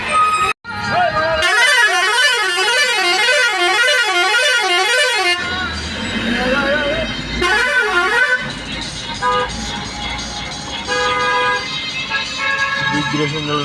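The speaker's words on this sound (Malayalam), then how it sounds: "ബംഗാളിലെ ഒരു പ്രൈവറ്റ് ബസ്സാണ് ഈ കാണുന്നത്" A private bus in West Bengal sounds its melodic horn: a loud, warbling musical tune over several seconds, then more honking and traffic noise, with speech in the background.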